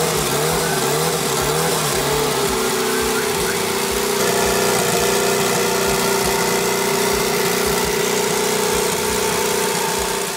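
A tuned Honda CR-V turbo engine runs steadily and loudly up close, a continuous mid-pitched drone with a throbbing pulse and slight shifts in pitch as it holds near idle.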